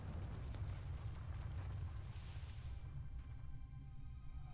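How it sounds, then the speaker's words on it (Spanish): A rumbling explosion in the video game Guardian Tales, a steady low roar with a brief hissing burst partway through, loud and continuous without any talk. "Mira la explosión."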